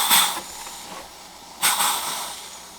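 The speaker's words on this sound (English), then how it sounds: "I'm just hovering very closely over it and letting the steam hit it" Steam hisses from an iron held just above a coat collar, two bright bursts, one at the start and a louder one partway through, each fading into a softer sustained hiss, close and alone.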